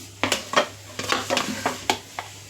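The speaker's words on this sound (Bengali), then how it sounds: "এগুলো ভাজতে বসিয়ে দিয়ে একটু মশলাটাকে তৈরি করে নিই।" Soybean chunks frying in a pan for a Bengali soybean snack, with a steady sizzle under a series of sharp scraping and clinking stirs from a utensil against the pan, close and fairly loud, no talking.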